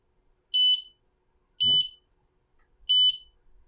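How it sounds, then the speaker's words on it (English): A laser engraver with blue and infrared lasers gives three short, clean, high-pitched beeps, evenly spaced about a second apart, against near silence apart from a faint thump. "It just beeped at me."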